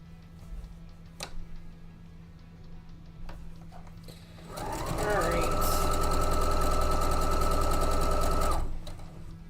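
A sewing machine stitches fabric pieces together in one loud, steady, rapid burst of several seconds, after scattered quiet handling clicks and brief talk.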